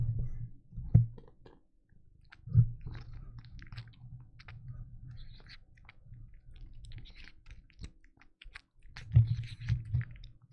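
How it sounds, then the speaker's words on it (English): A cat munching on food it has just been given, soft wet chewing and squishy bites repeating close up, with a few louder crunchy bursts near the start and end. "You can hear her munching."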